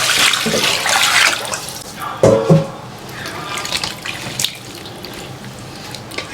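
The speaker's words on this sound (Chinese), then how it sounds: "外腰、内腰、羊肉、加水洗一下" Tap water runs into a sink as lamb kidneys and lamb meat are rinsed for a home barbecue, a steady splashing stream with a brief louder gush partway through and no talk.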